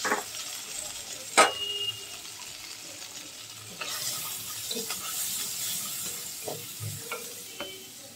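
Half a cup of onions sizzling in hot oil for a shrimp and red water lily dish, a low steady hiss with occasional clinks and stirring knocks, quiet and close, with no talking.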